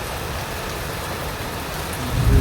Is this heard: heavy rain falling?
yes